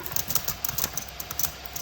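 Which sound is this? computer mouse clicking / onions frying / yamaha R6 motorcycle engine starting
computer mouse clicking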